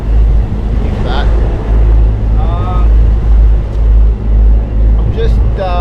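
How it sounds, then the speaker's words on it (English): Both engines of a sailboat drone steadily while it motor sails, a loud low rumble with wind buffeting the microphone throughout. "I'm motor sailing at the moment. I've got both engines on and I've got the sail up"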